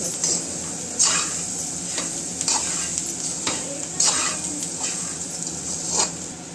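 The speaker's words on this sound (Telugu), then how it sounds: "ఇప్పుడు మంచిగా నూనెలో ఉడికినాయండి శనగలు కూడా." Chickpeas frying in oil with coriander, sizzling steadily while a spoon stirs them, the utensil scraping the pan in regular strokes about once a second.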